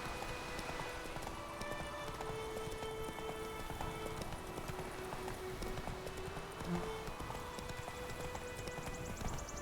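A horse gallops in The Witcher 3, a fast, steady clip-clop of hooves running continuously under faint game ambience and music tones, moderately close.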